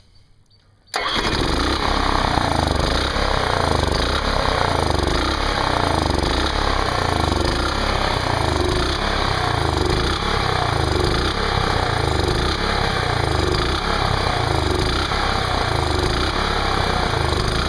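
An Onan 2.8 kW generator starts up and then runs loudly and continuously, its engine note wavering as it surges instead of holding a steady idle, close to the microphone.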